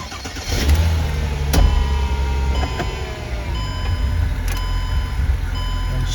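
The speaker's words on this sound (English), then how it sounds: "I might have to start the car to do it." A Mercedes CLK320 (C209) engine cranks and catches, then settles into a steady idle, with a chime-like beeping from the car's interior in the background.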